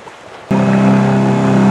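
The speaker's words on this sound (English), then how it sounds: "we've been motoring for about 5 miles, and we're almost there" Sailboat motoring under engine power at sea off Catalina: after brief quiet a steady, close engine drone with a low hum starts abruptly and holds evenly to the end.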